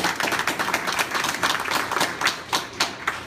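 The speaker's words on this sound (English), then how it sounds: "we'll give them a round of applause." A short burst of audience clapping for Board of Education members at a political campaign event, steady and fairly close for a few seconds.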